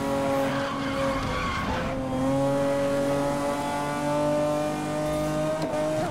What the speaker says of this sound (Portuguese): Só escutei o barulho do motor do NPC,